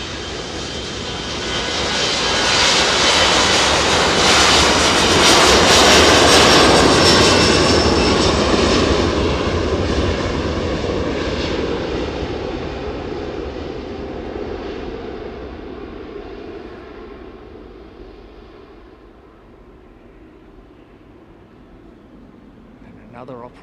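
Boeing 737 Max jet on approach at East Midlands Airport on a freighter night, a loud roar that swells, peaks and slowly fades into the distance as people talk over it.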